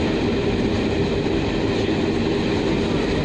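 Steam train running between Amersham and Harrow through the Buckinghamshire countryside, a steady loud rumble of carriages and wheels on rails throughout, with no voices.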